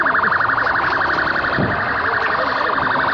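A police car siren wails in a fast, continuous warble as the vehicle arrives at a large store fire, loud and close over background commotion.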